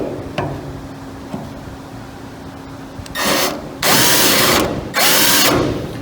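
Power drill boring a centre-punched hole in the metal of a Mustang under restoration, three loud bursts of whirring after a quiet lead-in, each run a second or so long with brief pauses between.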